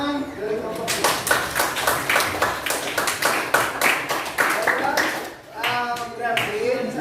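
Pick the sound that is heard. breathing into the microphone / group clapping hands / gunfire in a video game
group clapping hands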